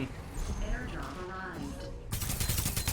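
Gunfire striking the player in the shooter game Farlight 84. After a stretch of low game noise and speech, loud, rapid shots break in near the end and keep going.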